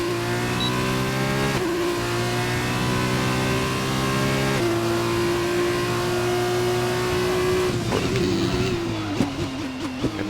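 A race car in the rFactor 2 game on wet tyres, at the Austrian GP, drones steadily at high revs, with a few sharp gear changes and a burst of rapid downshifting toward the end.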